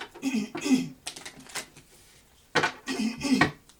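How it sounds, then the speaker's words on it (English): Tarot cards are shuffled by hand in two quick bursts of riffling and slapping, close and fairly quiet, with a short pause between them. "I'm going to shuffle them again."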